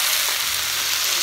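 Vegetables sauté in a pan with lemon pepper, garlic, pepper and salt, a close, dense, even sizzle filling the short moment without any voices.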